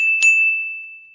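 A single bright notification bell dings, a clear high tone that rings out and fades over about a second.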